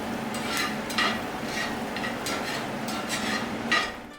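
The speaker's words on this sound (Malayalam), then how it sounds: "മീഡിയം ഫ്ലെയിമിൽ തന്നെ വെച്ച് മല്ലി വറുത്തെടുക്കുക." Coriander seeds dry-roast in a pan over a medium flame for Kerala-style sambar, a close, steady rustling scrape as the seeds are stirred, with a few louder scrapes of the spoon against the pan.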